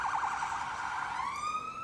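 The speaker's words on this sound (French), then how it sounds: "une ambulance paramédicale qui va sauver la vie de quelqu'un" Paramedic ambulance siren wailing briefly, a rising and falling electronic tone that sweeps upward near the end, fairly faint and alone.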